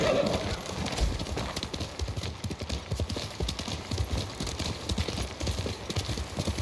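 Horse hooves in the video game Ghost of Tsushima clip-clop in a brisk, steady rhythm over a constant background hum, with a faint whinny near the start.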